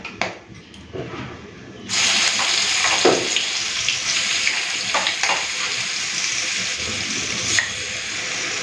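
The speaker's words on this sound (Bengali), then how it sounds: "এখন দিয়ে দেবো বেটে রাখা মশলা" Ground spice paste hitting hot oil in a pan already tempered with cinnamon, cardamom and cloves, bursting into a loud, steady sizzle that holds throughout with a few stirring scrapes.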